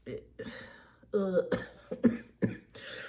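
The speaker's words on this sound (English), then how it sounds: "cough on cue" A couple of short, harsh coughs close to the mic, mixed in with a speaking voice.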